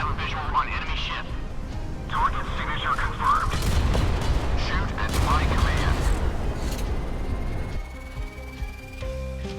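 A naval grenade launcher in the video game Modern Warships fires an eight-shot burst, repeated booming shots in quick succession, loud and dense, with game sound effects and a faint tone at the end.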